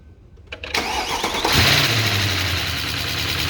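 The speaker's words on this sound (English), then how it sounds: "Mr. Derek, fire up please." A 2011 Mercedes E63 engine cranks briefly and fires with a loud rising roar, then settles into a steady, throaty idle close by.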